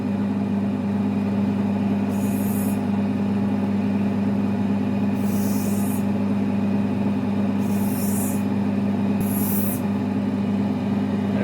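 Spinning cutting wheel used to cut a large black opal, running as a steady loud motor hum with a constant drone throughout and a few brief hissing scrapes where the stone meets the wheel.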